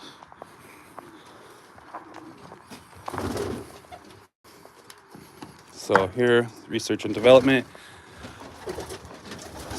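Racing pigeons coo in a backyard loft, several throaty bursts close by, mostly in the second half, while someone talks between them.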